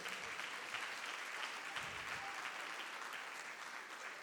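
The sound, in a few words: audience applauding the new generation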